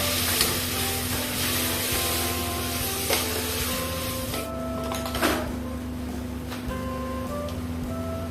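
Prawn biryani masala mixed with yogurt in a pan: soft sizzling with occasional spoon scrapes and knocks against the pan, under a steady humming background tone.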